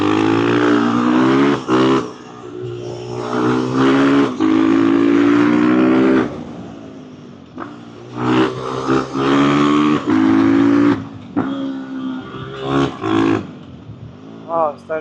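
A motorcycle ridden hard, its engine loud and close, revs up and down in long rising pulls separated by brief drops and pauses between gear changes.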